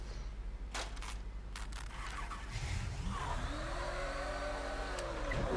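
Video-game car in Mafia 3 pulling away, a low rumbling engine that rises into a revving, gliding pitch sweep as it accelerates, steady and fairly loud with a few sharp clicks early on.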